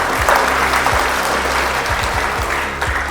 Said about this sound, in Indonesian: Tepuk tangan dulu untuk Polri.